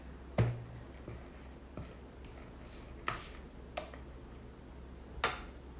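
A spatula scraping around a bowl of thick pound cake batter, heard as quiet strokes broken by a handful of sharp, widely spaced clinks against the bowl.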